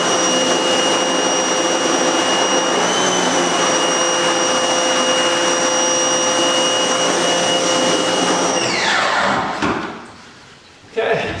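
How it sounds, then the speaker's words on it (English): A power washer wand spraying a silkscreen during washout: a loud, steady, hissing roar that runs for about nine seconds, then cuts off abruptly, leaving a brief lull before a short burst resumes. "I'm holding the power wand when I'm doing the washout"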